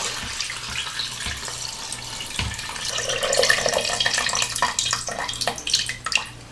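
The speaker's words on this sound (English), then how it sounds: "we're gonna add water to the max line" Water pours steadily into an Instant Pot pressure cooker pot up to the max line, splashing and gurgling as it fills, growing a little louder toward the end, with no talking.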